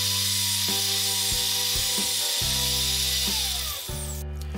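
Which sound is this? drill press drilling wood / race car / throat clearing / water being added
drill press drilling wood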